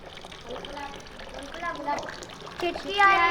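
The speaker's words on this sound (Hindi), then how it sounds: "मैं जैसे ही इस केतली से पानी इस बकेट में डालता हूं" Water pours from a kettle into a bucket, a soft splashing trickle that grows louder toward the end, partly under a voice.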